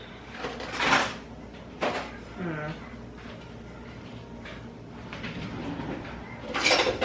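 A plastic salad container holding arugula is pried open, giving a few sharp snapping and crackling bursts between quieter handling noise, close by.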